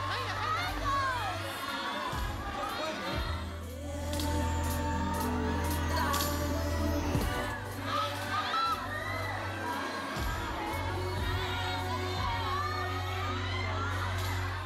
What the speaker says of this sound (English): prompts Michael to lead the crowd into an impromptu sing-along